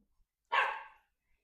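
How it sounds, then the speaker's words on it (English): A single sharp bark from a dog barking at the neighbouring dog next door, heard close and alone against silence. "he's now barking at next door's dog."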